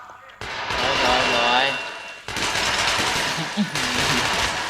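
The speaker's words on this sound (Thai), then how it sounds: "อ้โหยิงไม่กะให้กูรอดเลยนะ ปืนกลเล็ก" Small machine gun fire in the video game Metro Last Light: dense, rapid automatic bursts that fill the scene in two long volleys separated by a brief pause, with a voice talking over the shooting.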